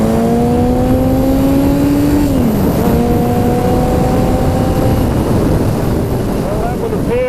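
A Yamaha XS1100 cafe racer motorcycle on a test ride, its engine loud and continuous with rising revs, a pitch drop at a gear change, then climbing again, wrapped in heavy wind buffeting.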